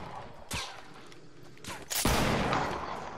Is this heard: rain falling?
no